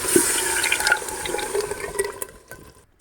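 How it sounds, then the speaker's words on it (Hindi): A mix of yogurt and gram flour is poured into a pot of spiced masala for kadhi, giving a wet, gurgling splash that trails off to quiet. "अब इसमें शामिल करेंगे मिक्स किया हुआ दही और बेसन"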